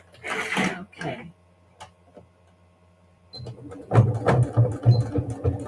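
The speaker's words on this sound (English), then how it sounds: "Back stitching on the hanger." A voice talks briefly first, then a sewing machine whirs into a steady, rhythmic back stitch across a fabric hanger on a quilted scissor case, close and moderately loud.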